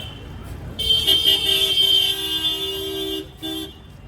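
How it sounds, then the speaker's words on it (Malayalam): Car horns honk repeatedly over steady Varanasi street traffic noise, one sustained tone blaring for a few seconds with shorter toots around it. "ഇവിടെ പിന്നെ ഒരേ ഒരു പ്രശ്നം, ഈ ഹോണടി, ചുമ്മാ ഹോണടി."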